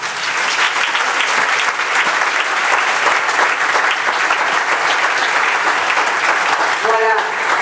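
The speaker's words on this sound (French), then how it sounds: "Je vous demande de l'applaudir" Sustained audience applause at a French-language presentation, a dense, even wash of many hands clapping for over seven seconds, with a brief voice or tone near the end.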